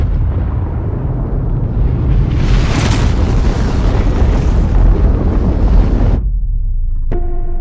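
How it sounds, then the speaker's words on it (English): The 1961 Soviet Tsar Bomba, a 50-megaton nuclear detonation, comes through as a loud, sustained roaring rumble of wind-blasted noise that swells and then cuts off abruptly, followed by a brief tonal ring. "Russia recently declassified secret footage of its 1961 detonation."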